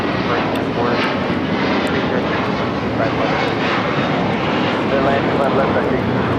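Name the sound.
airliner at LAX, Boeing 787 Dreamliner or 747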